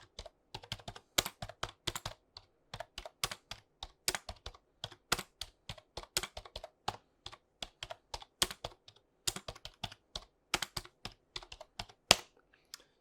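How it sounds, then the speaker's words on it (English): Steady typing on a membrane keyboard, close and soft-edged, with irregular bursts of keystrokes and brief pauses over several seconds. "typing on it, it sounds great, but typing on it is a little rough"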